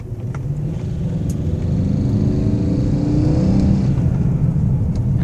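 A 1999 BMW 540i with the M62 V8 engine idles steadily with a continuous low rumble and faint tapping from the motor, recorded close up with no talking.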